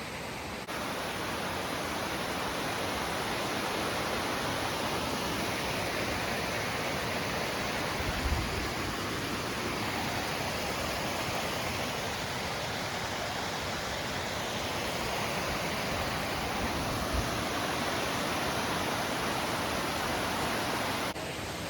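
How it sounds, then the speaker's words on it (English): Mineral Creek Falls, a waterfall in the Hoh Rainforest, roars in a constant, broad wash of rushing water heard up close, steady and unbroken throughout with no voices. "we made it to Mineral Creek Falls"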